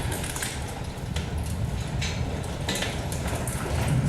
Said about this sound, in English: It sounds like rain or hail outside, but it's actually rocks coming in.